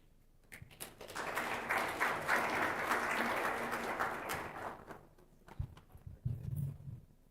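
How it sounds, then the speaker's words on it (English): Audience applauding at an African Academy of Sciences event, several seconds of sustained clapping from a crowd that swells, holds, then thins into a few scattered claps and taps. "You can applaud her."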